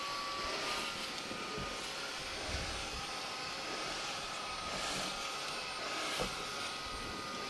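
A Tineco Carpet One Spot cleaner runs in upholstery mode with a steady loud motor whine and airy suction roar, close and unbroken for several seconds, with no talking.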